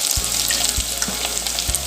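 Sliced shallots and garlic with curry leaves sautéing in hot oil for fish curry, a steady close bright sizzle running throughout with a few low thumps from the pan, no voices.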